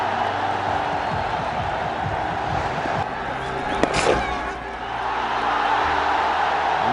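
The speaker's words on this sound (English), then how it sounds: "Listen to the crowd." Cricket crowd at a one-day international cheering after a boundary and a batsman's half-century, a broad steady roar of many voices filling the clip, with a brief sharp knock near the middle and the noise swelling again toward the end.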